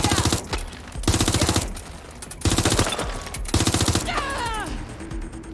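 Long rapid bursts of automatic gunfire from Watch Dogs Legion repeat four times, each about half a second to a second, loud and close, with shouts and a strained voice in the gaps.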